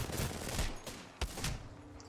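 Dense gunfire in the Apex Legends video game sounds as a loud, continuous crackling fusillade of overlapping shots, with a few sharper bursts standing out.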